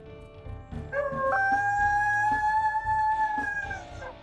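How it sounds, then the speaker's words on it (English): A wolf in WolfQuest Wayfinders gives one sustained, loon-like howl, a clear rising then level wavering tone that holds for a few seconds before tapering off, alone over faint ambient background. "Let's go ahead and listen to his howls here."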